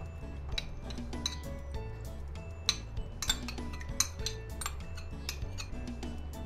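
Metal utensils clink and scrape repeatedly against a dish as fruit cocktail is added to custard for custard seviyan, a busy run of sharp taps with no talking.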